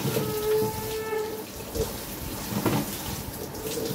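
Tap water runs steadily while raw mangoes are rinsed to wash off their sticky sap, a close trickling and splashing with intermittent handling clunks and no speech.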